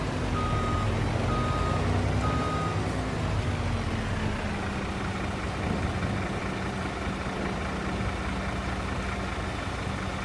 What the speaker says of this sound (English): So back the truck in